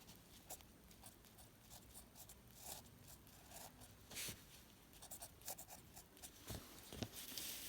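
Pen strokes forming a Chinese character by hand, a soft scratchy scraping of tip on paper in short bursts and longer strokes, close and quiet, with no talking.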